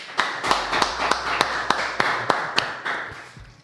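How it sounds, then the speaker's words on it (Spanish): A fairly sparse, uneven clapping in a central studio as a guest is welcomed, with about a dozen distinct claps standing out over a steady background hum, close and moderately loud. "nos disponemos acá en el estudio central de Gelatina a recibir con un fuerte aplauso a Pablo Semán"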